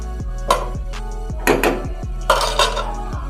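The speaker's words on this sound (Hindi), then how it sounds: "एक से 2 मिनट के लिए इसको मिक्स करेंगे" Chicken being mixed in a bowl for a chicken sandwich cake, a series of utensil clinks and scrapes against the dish in uneven bursts, close and fairly loud.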